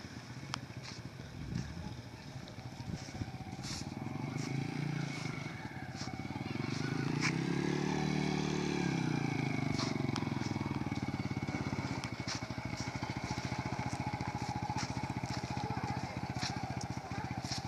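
A motorcycle engine revs up and settles as a learner rider shifts gears, the drone rising and falling, with people talking over it.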